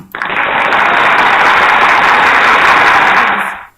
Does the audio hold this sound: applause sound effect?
yes